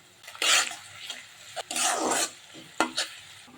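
Onions stirred in hot oil in a wok for a chicken and mung dal dish: three close, scraping bursts of stirring with a soft sizzle between them, and no voices.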